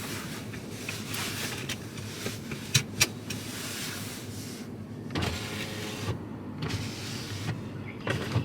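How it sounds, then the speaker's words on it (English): Car power windows roll down in a parked vehicle, electric motor whirs rising and stopping in several separate runs, close and fairly loud over a low idle hum. "Yeah, I rolled down the windows a bit."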